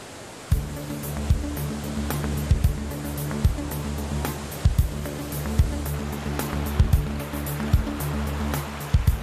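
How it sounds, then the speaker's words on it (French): Waterfall near Terni tumbling fifty cubic metres of water down three successive tiers toward the Nera river valley, a steady dense roar with rhythmic low thumps throughout, continuous and close. "50 mètres cubes d'eau se déversent en 3 paliers successifs vers la vallée de la rivière Nera"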